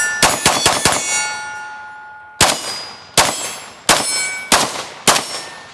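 Sharp shots from a P90 short-barreled rifle ring off steel targets: a rapid burst of four to start, a quiet ringing pause, then five evenly spaced single shots, each leaving a bright metallic clang that decays.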